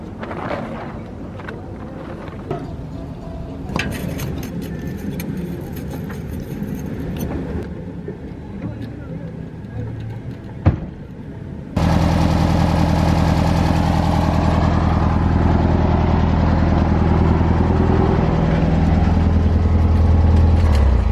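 A car engine running unevenly, out of tune, idles steadily and loud after an abrupt start partway through, preceded by quieter background noise with some wind.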